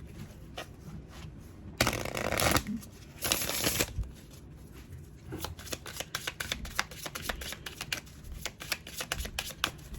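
Tarot cards being shuffled up close: two loud riffling bursts, then a run of quick, crisp slaps and taps as the deck is handled, with no talking.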